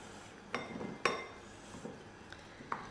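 Cut pointed gourd pieces are moved into a kitchen vessel, with a few sharp clinks of metal utensils against dishes spaced irregularly over a quiet background, and no talking.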